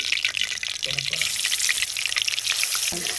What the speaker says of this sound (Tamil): இப்போ மீன் பொரிக்கிறதுக்கு